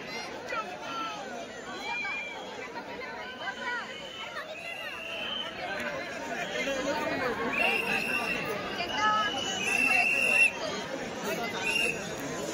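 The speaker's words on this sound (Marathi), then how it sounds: "इथे पाहू शकता तुम्ही प्रचंड अशी गर्दी आहे" A huge crowd at the Dagdusheth Halwai Ganpati temple in Pune, a dense murmur of many voices that grows a little louder over time, with occasional whistles cutting through and a nearby person talking.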